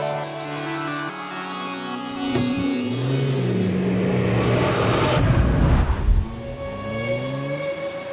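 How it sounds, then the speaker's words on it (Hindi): A car engine revs and pulls away close by, rising in loudness over several seconds before easing off, with faint tonal background sounds alongside. "ए मंटो, गाड़ी निकालो।"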